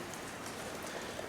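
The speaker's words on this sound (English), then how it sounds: "I don't know if you can hear the rain outside, but it is absolutely pouring right now." Steady, dense hiss of rain falls continuously, soft and somewhat distant, with no talking.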